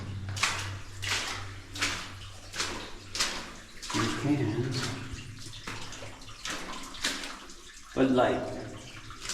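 Water runs and splashes out of a mountainside inside a flooded, muddy abandoned mine, a steady gushing close by with bursts of louder spatter, while a person talks over it.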